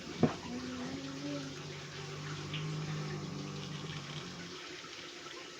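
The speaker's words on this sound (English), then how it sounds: "I can hear the drain growling." Water draining from a sink or tub sets off a steady, low growling gurgle in the pipes, droning close by for several seconds after a brief knock at the start, then cutting off near the end.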